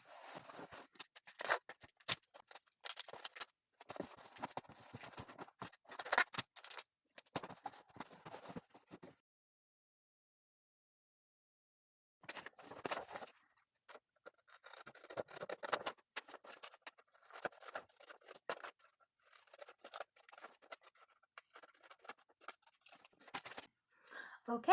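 Packing tape is pulled and pressed onto the sides of a cardboard book-shipping box in bursts of crackling, scratchy noise, quiet and close, with a short silent gap midway.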